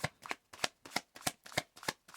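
Tarot cards are shuffled by hand in seven quick, evenly spaced riffling bursts, close and crisp, with no talking.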